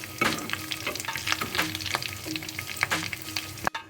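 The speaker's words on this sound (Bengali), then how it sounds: "এভাবে আমি বাকিগুলো ভেজে নিচ্ছি" Beef chops fry in hot oil at medium heat with a dense, continuous sizzle, close and loud, broken by stirring clicks and scrapes.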